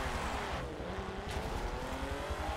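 Renault Clio V6 race car at Lime Rock in Forza Motorsport 7, its engine droning and revving steadily through the whole stretch amid a pack of cars, with faint tire noise.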